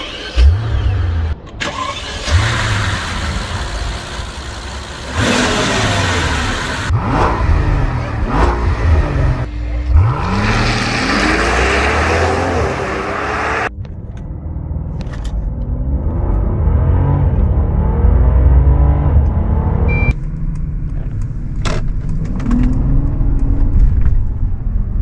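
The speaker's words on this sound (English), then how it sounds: "The Maybach S680 appears in Need for Speed Unbound." Maybach S680 luxury sedan engine in Need for Speed Unbound, starting up and revving through rising and falling gear sweeps, loud and close, then settling into a steady deep rumble.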